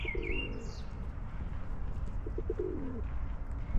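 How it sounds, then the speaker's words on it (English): Pigeons coo and birds chirp in a Hamburg park, with a few soft calls over steady outdoor background noise. "the birds are there."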